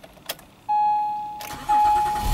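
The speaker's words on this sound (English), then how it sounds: "And the car starts." An Acura MDX that has had trouble starting cranks and fires up, a steady mid-pitched whine under the key turn, then the engine catching with a rising roar and settling into a close, loud idle.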